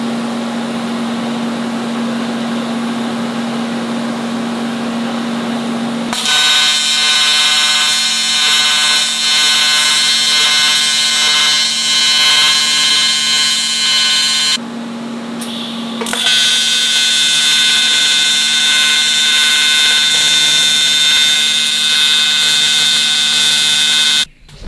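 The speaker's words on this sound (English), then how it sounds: "stitch weld them on the inside in a couple spots" Billet weld-on beads are stitch welded to turbo charge pipes, a loud, steady electric buzz in two long bursts separated by a brief pause, with a lower hum in the quiet moments.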